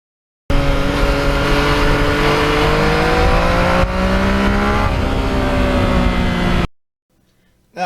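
A Yamaha MT-09 motorcycle with stock catalytic converter exhaust and no muffler roars loudly at close range, revving up in pitch and holding high, then cuts off abruptly to near silence.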